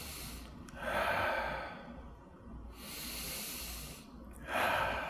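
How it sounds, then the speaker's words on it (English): Deep breathing during chair yoga for children: two slow, audible breaths, each a soft airy inhale and exhale swelling and fading, close and quiet with no talking. "Let's do 2 breaths here."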